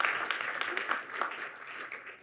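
Audience applause at the Unreal Fest 2022 conference: a steady patter of many hands clapping, fairly faint and even, with a few sharper claps standing out over about two seconds.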